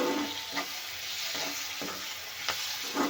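Tomatoes and curry leaves fry in hot oil for a raw banana sambar. A soft, steady sizzle runs throughout, broken by a few light scraping taps of stirring.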